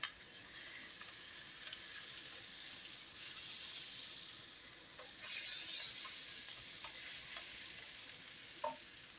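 Onions with turmeric powder fry in a pan and are stirred, producing a quiet, steady sizzle with soft scraping strokes of the spoon and a brief clink near the end.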